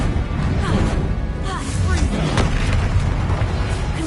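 A Confringo fire spell explodes in the Hogwarts Legacy video game, a dense, rumbling blast with crashing impacts that keeps up across the whole stretch amid game noise and a voice.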